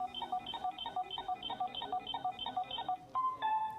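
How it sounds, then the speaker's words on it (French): A toy lie detector machine beeping in a rapid, steady electronic pattern of repeated two-tone pulses, close and clear, ending with a few longer tones. "cette machine saura si tu nous dis la vérité ou si tu nous mens"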